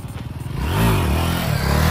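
A Sahara 300 motorcycle ridden close by revs up, its engine note climbing and falling in pitch, then holding a loud, steady drone with mechanical clatter.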